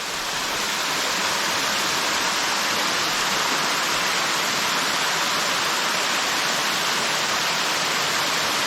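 Waterfall on the Fall Creek Falls trail: a broad, steady rushing roar of falling water, loud and unbroken, with no voices.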